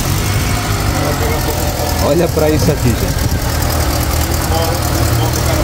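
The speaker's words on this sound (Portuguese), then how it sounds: "Pedi para que o amigo desse partida aqui nesse veículo para vocês acompanharem junto conosco." Volkswagen Parati with an AP 1.8 engine idles steadily at a used car fair, a continuous engine rumble running under a man's nearby speech.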